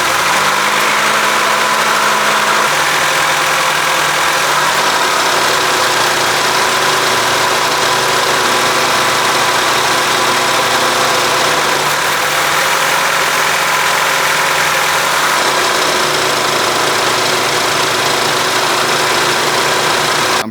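A 1996–2000 Honda Civic idles with the air conditioning running, a steady loud engine rumble with a low compressor drone underneath that holds evenly throughout, with no voices.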